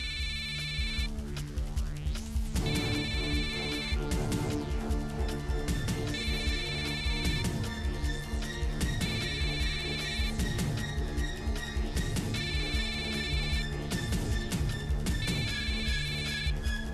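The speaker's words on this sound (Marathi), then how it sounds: "त्या बाळूचाच तर नसेल फोन." A telephone rings repeatedly in a steady pattern of electronic tone bursts, fairly close and clear, set against layered background music in a television serial scene.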